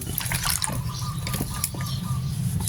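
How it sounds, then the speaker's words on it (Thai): Vinegar poured into a homemade termite-killing mixture, a close liquid trickle and splash with small drips over a low background hum. "น้ำส้มสายชูครับ ให้เราใส่ลงไปเลยครับ"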